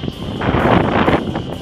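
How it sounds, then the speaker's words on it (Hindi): Strong wind on a hilltop buffets the microphone in loud, gusty rushes over a short stretch, with a voice speaking over it. "आप भी देख सकते हो हवा तेज चल रहा है भाई, पहाड़ के ऊपर हैं"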